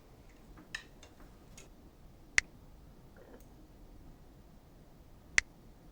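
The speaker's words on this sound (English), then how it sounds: "the metronome will play 2 and 4" Metronome clicks on beats two and four, two sharp, evenly spaced ticks about three seconds apart against near silence, with a few faint stray taps.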